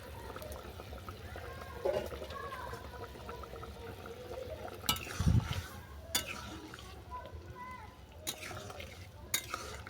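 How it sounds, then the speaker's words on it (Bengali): Chitol fish curry with fried fish, eggplant and mustard paste is stirred in a pot, giving soft wet scraping and liquid sloshing with a few louder clanks, up close. "এটাকে ভালো করে নেড়ে ছেড়ে আমি আরও 1 মিনিট রান্না করে নেব"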